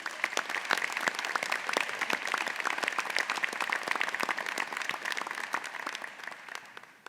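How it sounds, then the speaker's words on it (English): Sustained audience applause at a medical school commencement ceremony, dense steady clapping from a large crowd that holds throughout and tapers slightly at the end, with no talking. "Please join me for a round of applause congratulating Dr."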